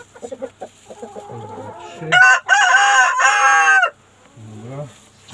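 Chickens in a coop on a frosty morning give close clucks and a loud, drawn-out crowing call, with short quieter clucking before and after.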